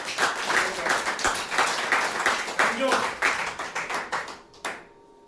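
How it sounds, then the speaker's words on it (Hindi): An audience at a team training event claps loudly and rhythmically, hands beating in ragged waves that thin out and die away in the last second, with voices audible among them. "भाई इन दोनों के लिए जोरदार ताली होती है।"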